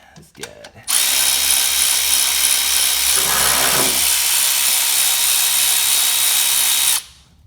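A power tool whirs continuously for about six seconds while backing a 14 millimeter head bolt out near the alternator of a Pontiac Vibe or Toyota Matrix, loud and close, preceded by a few brief clanks.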